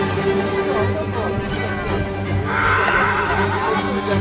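A horse whinnies in a drawn-out, wavering call over a steady, busy background at a vintage carriage driving competition, with a faint voice nearby.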